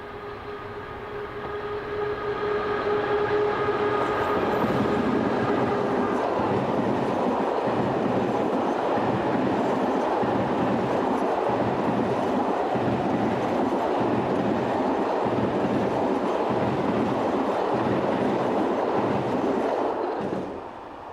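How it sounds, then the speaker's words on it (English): SNCF locomotive 16050 hauls a Le Havre–Paris train past, a loud sustained roar of engine and rolling stock with steady rhythmic wheel clatter, building up and then easing off at the end. "16050 gets into its stride whilst heading the 1706 from Le Havre to Paris"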